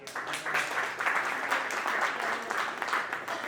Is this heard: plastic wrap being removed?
no